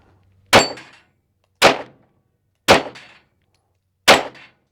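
Springfield Echelon pistol firing at a steel plate rack, four sharp shots spaced about a second apart, each followed by a bright metallic ring of struck steel, loud and close with no talk.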